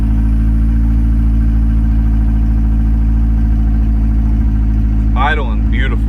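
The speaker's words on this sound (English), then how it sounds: "Idling beautifully." A Honda Civic engine idles with a steady, low, even rumble throughout, close by, with a short burst of speech near the end.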